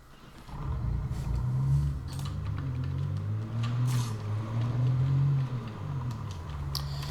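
A Jeep engine in the Project Zomboid video game drives along steadily, a low droning hum with slight rises and falls, near and continuous with no talk over it.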